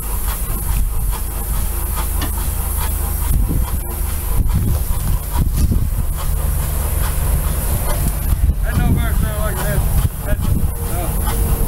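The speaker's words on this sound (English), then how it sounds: "Another steam engine. We're running on air and it's running a cement mixer." An 1888 antique steam engine running on compressed air drives a cement mixer, giving a steady loud hiss and mechanical clatter throughout, with people talking over it.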